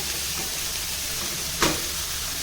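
Horse gram siyali mixture sautés in oil in a heavy-bottomed pan, giving a soft continuous hiss and sizzle with one brief sharper crackle partway through and no talking.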